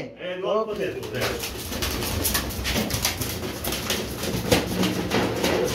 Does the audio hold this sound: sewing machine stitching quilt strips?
no